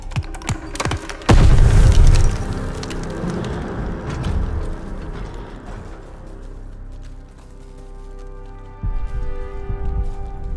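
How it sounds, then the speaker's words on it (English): A grenade explodes in Call of Duty: Vanguard, one loud low boom that decays into rumbling battle noise, then quieter combat ambience with another swell near the end. "Grenade!"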